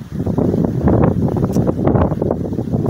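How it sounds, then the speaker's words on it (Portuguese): Strong wind in a rural area during a rain and thunderstorm buffets the microphone with a loud, continuous roar that rises and falls in gusts. "O vento está um pouco forte."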